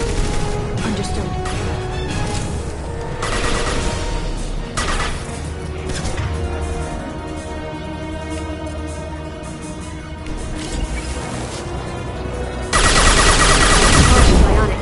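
Mass Effect gunfire rattles in dense, overlapping bursts of rapid shots and crashes, loud and sustained, swelling even louder near the end amid busy combat noise.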